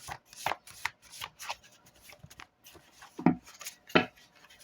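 Cards are shuffled in several quick riffling bursts with short pauses between them, close and fairly quiet.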